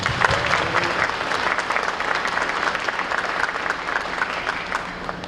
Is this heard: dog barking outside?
no